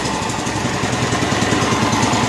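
A John Deere 210 lawn tractor engine idling steadily, a close, even mid-pitched putter with a fast regular pulse and no voices over it.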